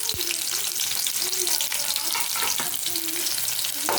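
Onions frying in oil after a tempering of green chillies, coriander seeds, cumin and mustard seeds for cucumber chutney, a steady close sizzle with occasional stirring scrapes and no voices.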